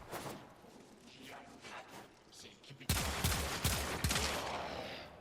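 Vasto revolver fire in the shooter game Warframe, with quiet game ambience at first, then a loud run of close, sharp gunshots and impacts over the last half.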